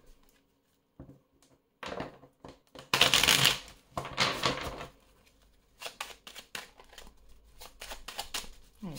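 Belline oracle cards are shuffled by hand in several bursts of riffling and sliding card noise, close and fairly loud, separated by short quiet pauses.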